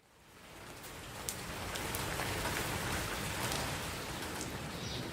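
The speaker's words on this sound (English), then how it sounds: "It's raining." Rain falls steadily on a courtyard's low covered veranda at a Hindu mission, a dense, close hiss of drops that builds in the first second and then holds loud and even, with occasional sharper drips.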